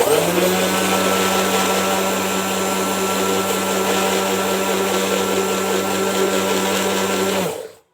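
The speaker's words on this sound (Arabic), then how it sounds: "بعد ما ضربنا السمنه والبيض والفانيليا مع بعض" Electric blender beating ghee, eggs and vanilla for cake batter, a loud steady motor whir with a constant tone that runs unbroken for several seconds, then cuts off and winds down abruptly at the end.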